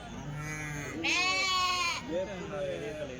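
Several sheep bleat in a row, loud and close, with a long wavering call in the middle and people talking around them at a sheep and ram market in Kadiri.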